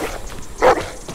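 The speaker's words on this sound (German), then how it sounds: "Braver Hund." A single short dog bark from the video game The Walking Dead: The Final Season, heard close and clear over low background noise.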